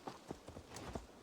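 A hairless horse in Assassin's Creed Valhalla clip-clops in a quick run of about five soft hoof thuds, faint and close, with no talking.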